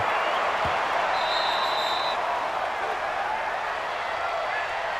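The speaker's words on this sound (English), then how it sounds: "And the home crowd applauding." A home crowd applauds at a football game in a video game simulation, a steady dense wash of clapping and cheering that stays loud throughout.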